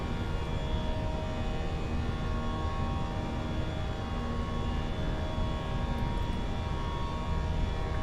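Airbus A321 engines at climb thrust in a flight simulator give a constant, loud, deep roar with a steady whine layered on top, unbroken from start to finish.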